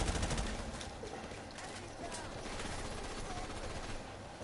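Sustained machine gun fire in the Call of Duty Modern Warfare Remastered campaign, a dense, continuous crackle of rapid shots with distant battle noise throughout, a suppressing-fire firefight.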